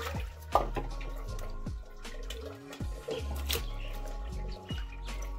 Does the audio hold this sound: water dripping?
yes